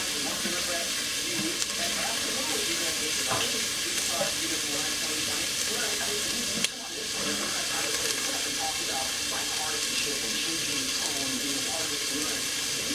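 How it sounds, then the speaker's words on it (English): Celery is rinsed under a running kitchen tap, giving a steady, close hiss of flowing water that barely changes, broken by one brief dip midway. "Washing up my celery."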